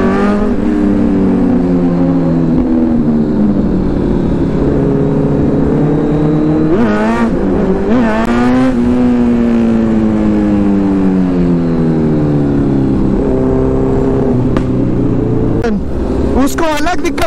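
A Kawasaki ZX-10R motorcycle engine revs loudly and close by, its pitch rising and falling in repeated throttle blips over a steady drone.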